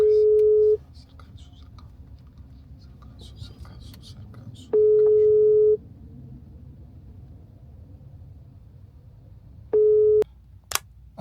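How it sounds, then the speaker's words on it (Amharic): A telephone ringing unanswered: three separate ringback tones, each under a second long and spaced several seconds apart, sound clearly over a low background rumble. "ስልክ አንሱ"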